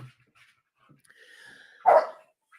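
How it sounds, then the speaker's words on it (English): A dog gives a single loud bark near the end, preceded by faint whimpering and a thin whine, in an otherwise quiet indoor room. "It's my dog. She's crazy."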